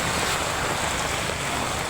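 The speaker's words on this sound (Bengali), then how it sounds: "হঠাৎ করে বৃষ্টি, মাশাআল্লাহ অনেক সুন্দর বৃষ্টি।" Heavy rain pours onto a flooded street in Narayanganj, a steady, dense hiss of water filling the whole moment without pause.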